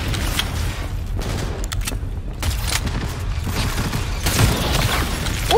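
Gunfire in the video game Cyberpunk 2077 during a firefight, a dense stream of crackling shots and impacts over rumbling combat noise, fairly loud and continuous.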